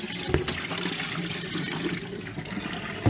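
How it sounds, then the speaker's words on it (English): Water splashes and gushes out in a short pour, sloshing and spattering close by. "we'll just tip out this water"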